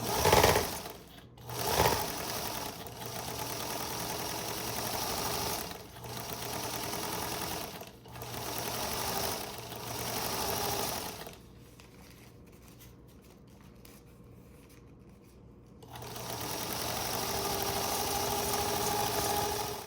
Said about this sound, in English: go ahead and sew up your seam